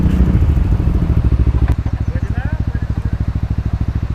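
A motorcycle engine idling close by with a steady, even pulsing thump, preceded by a brief burst of louder revving and clatter at the start; parked at a remote road's end in General Nakar, Quezon.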